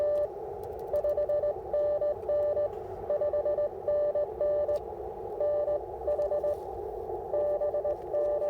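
Morse code CW tones received on an Icom IC-705 ham radio during a parks activation, a steady high beep keying out dots and dashes in rapid rhythmic bursts over a constant band-noise hiss.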